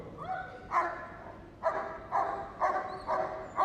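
West Midlands Police dogs bark in a series of six sharp, loud, evenly spaced barks with a whimpering yip at the start, heard close at a Crufts dog display.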